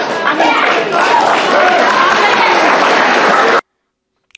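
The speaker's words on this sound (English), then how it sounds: "all of that initial clapping, yelling, and cheering" A crowd at a board meeting claps, yells and cheers loudly in a dense, roaring mass of noise that holds steady for several seconds, then cuts off abruptly into near silence.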